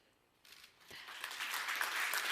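An audience at a Rosetta wake-up media briefing at ESOC breaks into applause for two scientists; clapping starts quietly and swells into steady, dense applause.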